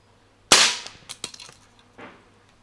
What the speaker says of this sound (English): Put one round in there, one pellet, push the bolt forward and take it off safety. You're ready to fire.